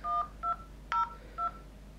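Dialer keypad tones on a Nokia Lumia 620 phone: four short, clear electronic beeps in an uneven rhythm, close and fairly quiet, with no talking.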